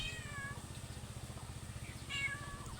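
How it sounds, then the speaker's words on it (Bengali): A village cat in the Sundarbans meows twice, a short call near the start and another about two seconds later, close by over a steady low rumbling hum. "তুই এসে ম্যাও ম্যাও করছিস।"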